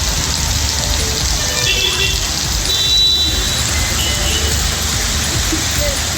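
Heavy rain with thunder pours down over Dharmapuri, Tamil Nadu, leaving water pooled on the roads: a dense, steady wash of hiss that holds without a break throughout.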